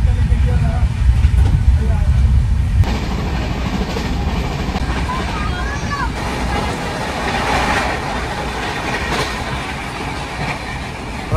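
The Saraighat Express rolls along the rails, a loud close rumble heard from inside the coach with a low clatter of wheels, shifting in tone partway through, while voices murmur in the background.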